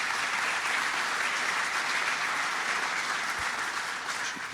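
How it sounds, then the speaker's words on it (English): A large audience at an event centre claps steadily in a dense, even wash of applause that holds for several seconds, with no voices on top. "Let's give him a round of applause to Charlie Evangelista."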